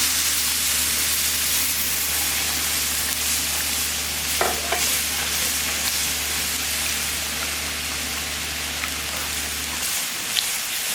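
Three cups of beef stock poured into a hot pan and simmering, a loud continuous hiss and bubbling with occasional scrapes of a spoon, with a low hum that cuts out near the end.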